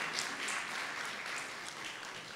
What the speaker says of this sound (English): we can clap for that, for Tom Harkin,